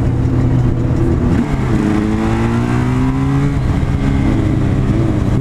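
A BMW M4 drives past loud and close, its engine note sweeping up and down with a strong droning rumble that swells and fades over a few seconds.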